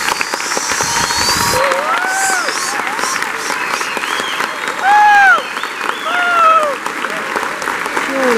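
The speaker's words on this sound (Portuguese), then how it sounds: "Uma salva de palmas para você." Sustained applause from an audience at a school graduation ceremony, loud and steady through the clip, with scattered cheers and whoops and voices calling out above the clapping.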